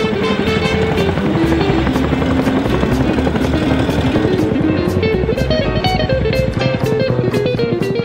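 A Soviet passenger and assault transport helicopter flies close and loud, its rotor beating in a fast steady rhythm over a continuous engine whine, with no talking.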